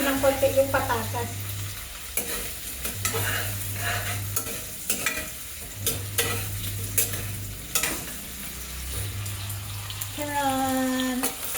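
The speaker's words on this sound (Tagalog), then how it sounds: "Iprito natin ng konti." Potato pieces sizzle and fry in a pan while being stirred, with repeated scraping and clattering strokes over the steady crackle and occasional voices in the background.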